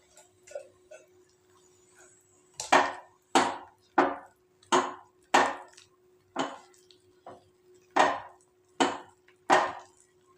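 A spoon works milk powder into a coconut ladoo mixture with sugar in a pan on the stove: about a dozen sharp, evenly spaced knocking strokes come after a quiet start, close and distinct over a faint steady hum.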